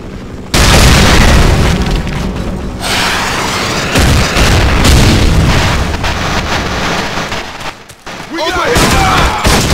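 A grenade going off in the Half-Life mod Heart of Evil: a loud, close boom that rolls into sustained gunfire and crashing blasts, with shouted voices in the mix.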